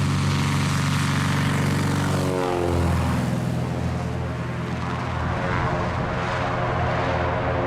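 A small propeller airplane takes off from a tight, confined strip at Marble between a hill and a big tree, its engine droning loud and steady at full power with a shift in pitch partway through.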